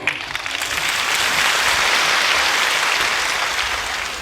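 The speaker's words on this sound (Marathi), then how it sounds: "टाळ्या वाजवता सर्व मन मोकळे वाजवले पाहिजे" A crowd at a public gathering for Manoj Jarange Patil at the birthplace of Dnyaneshwar Maharaj claps steadily, building into loud, sustained dense applause that carries through the whole stretch.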